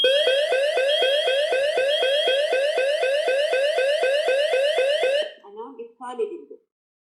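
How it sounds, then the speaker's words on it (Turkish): A loud electronic alarm panel beeps in a rapid, regular pattern for about five seconds after a wireless flood detector triggers, then stops, followed by a few faint short tones. "su basman dedektöründen herhangi bir tetik algıladığında sistemimiz uyarı verdi"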